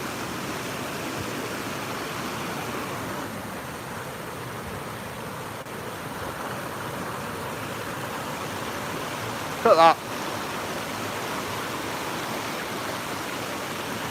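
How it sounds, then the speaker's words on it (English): Steady rushing water from a small natural waterfall in woodland fills the scene, a constant broadband roar, with a brief voice speaking over it near the middle. "Nice little natural waterfall."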